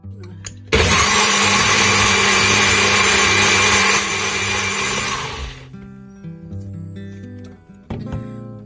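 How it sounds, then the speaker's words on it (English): A NutriBullet blender purees blueberries with a loud, steady motor roar that runs for about five seconds. It then winds down and stops, followed by faint clinks and a short final burst. "I'm going to whiz them up in my NutriBullet."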